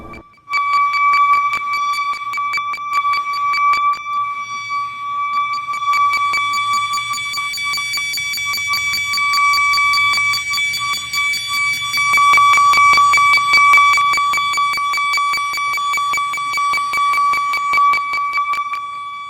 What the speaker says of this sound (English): this whistling noise that's coming in the middle of the night out of nowhere